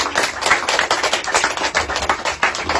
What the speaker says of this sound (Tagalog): Palakpakan nato ang kaigsunan.